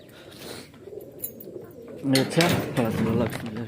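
Pigeons coo in low, throaty rolling calls from a nearby loft, faint at first then louder and layered as several birds join, with someone talking over them.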